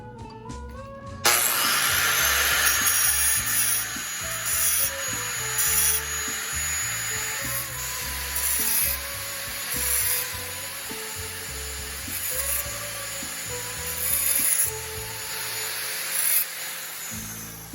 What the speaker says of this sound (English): get your grinder out again